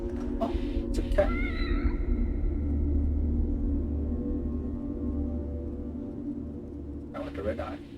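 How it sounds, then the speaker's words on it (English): A cat meows in the horror video game The Evil Within, a drawn-out meow over a low, rumbling ambient drone, with a couple of brief sharper noises near the start and end. "It's a cat."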